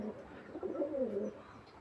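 Pigeons, pure-line Bangladeshi fancy breeds kept in a large cage, give a soft, low cooing burst that swells in the middle and fades, fairly quiet and close, with no talk over it.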